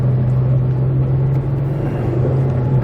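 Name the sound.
Mustang GT S197 driving in second gear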